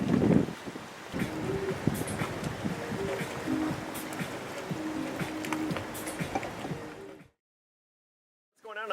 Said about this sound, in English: It's a little windy, it's a little wet